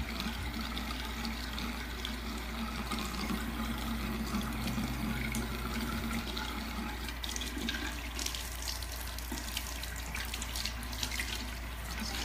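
Tap water runs steadily while a historical hair piece is rinsed of powder and pomade, a continuous splashing hiss with faint shifting as the hair moves under the stream, no talking.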